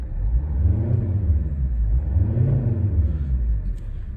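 A 2010 Volvo XC60 diesel five-cylinder engine revs twice, its deep, offbeat rumble swelling and easing back to a steady idle, close and loud without any talk.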